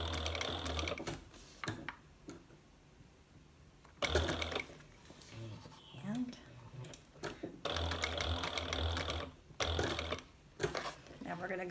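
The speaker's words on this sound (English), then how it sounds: "Actually, I missed a stitch. We're gonna go one more stitch." A sewing machine stitches a fabric bag strap in bursts with pauses between runs, the motor whirring close and steady during each run, while a person talks over the quieter gaps.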